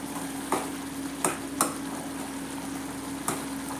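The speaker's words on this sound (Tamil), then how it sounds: "இதையே நம்ம திக்காக நம்ம கிளறி விட்டோம்னாவே நல்லா அந்த தொக்கு பதத்துக்கு வந்துடும்" Dried fish thokku is stirred in a pan, with a steady sizzle and a few distinct spoon scrapes and taps against the pan, close and fairly quiet.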